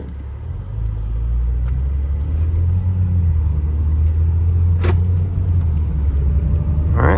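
2014 Maserati Ghibli with a 3.0L twin-turbo V6 cruising on a test drive, a steady low engine and road rumble heard from inside the cabin, with a few faint clicks and no speech.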